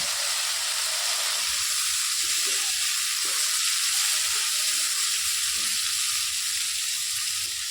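Broccoli florets fry in hot oil with fenugreek seeds, giving a steady, loud, even sizzle throughout with a few faint stirring touches and no talking.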